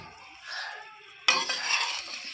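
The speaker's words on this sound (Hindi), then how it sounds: "और इनको 2 से 3 मिनट इस मसाले में भून लेंगे।" Potatoes are stirred and fried in a spiced masala in a pan, with a metal utensil scraping and clinking against the pan over a soft sizzle. A louder burst of stirring comes partway through.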